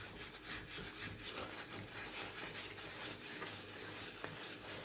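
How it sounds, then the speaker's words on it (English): A ladle scrapes the bottom of a pan of browning condensed milk toffee in continuous, close, gritty strokes with a steady rubbing rhythm. "keep scraping the bottom of the pan with your spatula or your spatula. Sorry, ladle, with your ladle."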